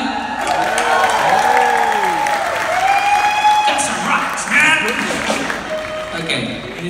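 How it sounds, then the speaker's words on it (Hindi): An audience at a live concert in London claps and cheers in a dense, continuous wash of applause while voices call out and shout over it. "बहुत सारी तालियां"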